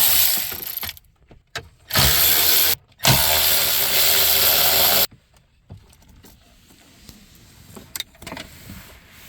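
Power tool whirring in bursts while backing out 7mm screws from the dash of a 2019-2022 RAM truck during a radio install: two loud close runs of a few seconds each, then quiet handling clicks.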